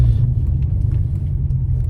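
A 2005 MG ZS 180 with its KV6 engine drives along, heard as a deep, steady low rumble from inside or near the car, loud and continuous with no one speaking.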